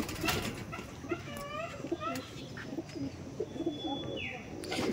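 Pigeons of an old breeding line in a loft coo in repeated soft, bubbling calls over steady background noise, with occasional chirps and a faint whistle-like tone.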